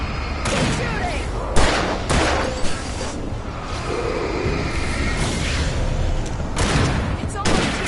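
Dense video-game gunfire fills the scene, rapid bursts and heavy booming shots layered over a constant roar, loud and close without pause.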